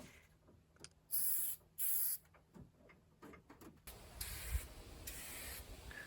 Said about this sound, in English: You apply the paint in a linear way and constant motion using a spray can